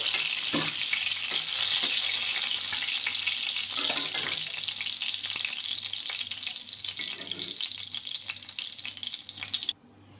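Fish pieces fry in hot oil for a Bengali sour fish curry with raw mango, a continuous hissing sizzle close by with a few light knocks, ending abruptly in near silence.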